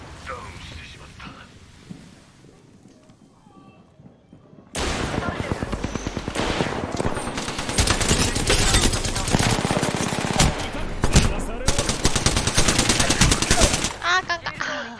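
Automatic gunfire from Apex Legends starts after about five quiet seconds, then bursts loud and nearly nonstop. Rapid rattling volleys overlap with sharp individual shots and mechanical clatter until the end.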